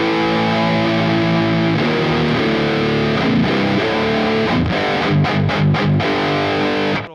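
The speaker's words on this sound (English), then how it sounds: "We're going to go to the kind of lead, kind of crunchy preset here. Start out on the bridge pickup again." A Jackson DK Modern Ash FR7 seven-string electric guitar on its bridge pickup plays through a crunchy, distorted lead preset. Sustained chords and held notes ring out loud and close, ending with a few quick choppy stabs and no talking.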